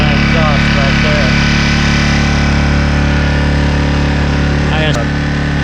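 A Predator 1400 inverter generator engine runs steadily nearby with a loud, even drone and buzzing exhaust, a few faint chirps over it.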